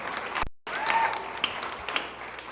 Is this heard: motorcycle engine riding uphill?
no